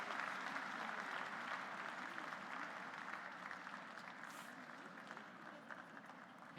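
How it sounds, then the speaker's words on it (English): Rolling applause from a supportive crowd at a curling event at the Mary Brown Center, sustained and steady throughout as curlers leave the ice, fairly distant and gradually easing off toward the end. "You're hearing that rolling applause as the curlers leave the ice here at the Mary Brown Center."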